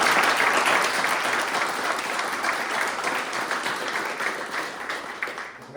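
Audience at an annual general assembly applauding the executives' work, a loud and dense round of clapping from many people that carries on steadily and slowly tapers toward the end.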